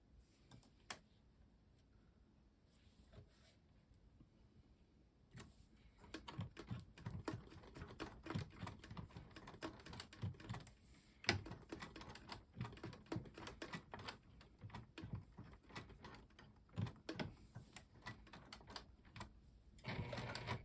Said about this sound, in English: we're probably going to need to hand crank with our machine